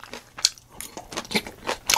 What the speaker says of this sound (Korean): 부드러운 잡채에 아삭한 우엉.